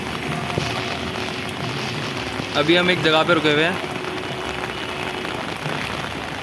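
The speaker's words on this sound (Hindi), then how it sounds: "ये बारिश इतनी तेज़ पिछले आधे घंटे से चली जा रही है।" Heavy rain pours steadily in the hills as a dense, constant hiss throughout, while someone speaks briefly in the middle over the downpour.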